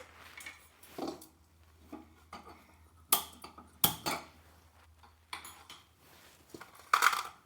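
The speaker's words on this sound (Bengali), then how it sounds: "কড়াইটা বসিয়ে দিলাম" A metal kadai set down on a lit gas stove, with sharp metallic clanks and knocks scattered through a quiet kitchen and a low steady hum underneath.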